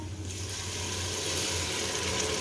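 A steady stream of water pours continuously into a pan with a broad hissing rush, close by, with no talking.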